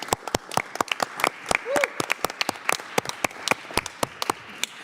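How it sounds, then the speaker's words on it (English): Scattered applause from an audience, a sparse run of distinct individual claps with uneven rhythm, fairly close and moderately loud. "I'd like to give them a round of applause"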